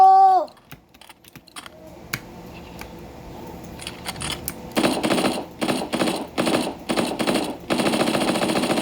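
Rapid bursts of video game gunfire crackle in short volleys, loud and close, separated by brief pauses, with a few sharp single shots early on.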